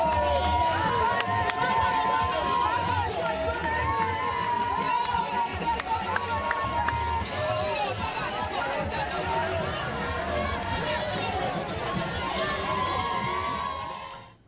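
A large crowd at an airport cheers and shouts to greet visiting heads of state, a dense, continuous roar of excited voices and children's cries that fades out at the end.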